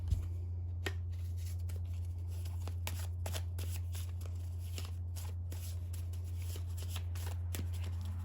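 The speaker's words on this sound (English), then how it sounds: "That gets shuffled into the deck." Cards for the board game Village Builder are shuffled into the deck with repeated close riffles and snaps over a steady low hum, and no one speaks.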